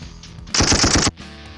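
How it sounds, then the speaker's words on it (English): Rapid burst of gunfire from a V8 sound card effect pad, a loud machine-gun-like rattle of closely spaced shots lasting about half a second, with quieter tonal background before and after. "And some gunshots."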